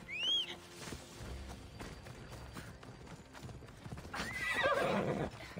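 A horse in the video game Assassin's Creed Odyssey gives a shrill whinny at the start and a longer neigh near the end, with steady clip-clopping hooves in between, close and clear.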